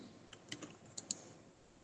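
Keyboard typing while entering text in Microsoft PowerPoint 2013: a handful of quiet, sparse key clicks spread over about a second, faint against a soft room background.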